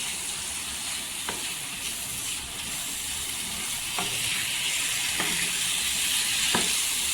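Spices sautéing in hot oil for an eggplant curry: a loud, steady broadband sizzle fills the whole stretch, broken by a few sharp spatula scrapes and knocks against the pan.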